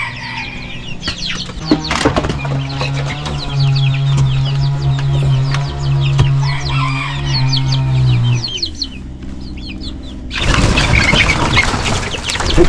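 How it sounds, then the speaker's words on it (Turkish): Small chicks cheep and cluck busily up close while eating cut grass, with rustling and a steady low hum, then a burst of noisy scratching near the end. "Şimdi bu biçtiklerimi ufak civcivlere bir vereceğim."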